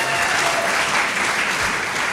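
Loud, sustained clapping from the crowd at a political fundraiser, a thick, even wash of hands that stays strong from start to finish with no speech.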